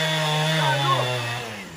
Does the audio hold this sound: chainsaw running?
yes